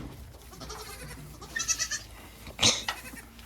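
Goats bleat in a farm pen, a couple of loud close cries a second apart amid rustling and faint background calls.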